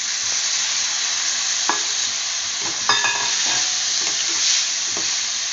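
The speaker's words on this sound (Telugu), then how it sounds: "ఇప్పుడు ఇందులో మనము టొమాటోస్ వేయించుకుందాం" Vegetables and tomatoes fry in a pan with a steady hiss, broken by several sharp stirring scrapes and clinks close by; no one speaks.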